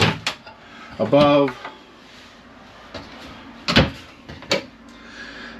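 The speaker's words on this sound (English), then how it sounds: "you can really feel the quality of the doors when you're opening everything" Cabinet doors opening and closing in the front kitchen of a 2022 Grand Design Transcend 255FK travel trailer, several sharp knocks and clicks with a brief rattling slide, and a voice speaking briefly.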